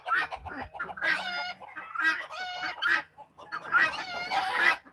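Chickens and guinea fowl on a poultry farm, a close flock clucking and squawking in busy overlapping bursts with short, sharp calls and brief lulls between them.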